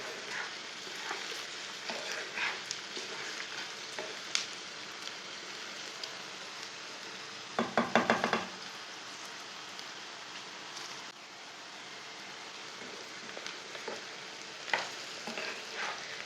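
Spices roasting in a pan for an okra (bhindi) curry, a steady close frying sizzle with scraping stirs throughout and a brief louder clatter of the spoon midway, no talking.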